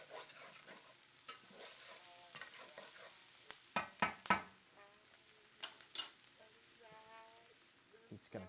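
Food stirred and sizzling in a frying pan while cooking a Seychelles-style dish, with a splash of vinegar to deglaze; continuous frying hiss broken by scraping stirs and several sharp utensil knocks against the pan, close up.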